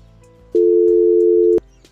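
A steady electronic telephone ringback tone sounds once for about a second, loud and close, while a call is placed, with faint background noise around it.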